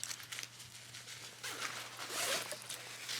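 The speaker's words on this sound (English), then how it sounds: "They are compression packing cubes, so they all unzip around the sides" Compression packing cubes are unzipped around the sides in several short close zipper pulls, with the longest and loudest one near the end.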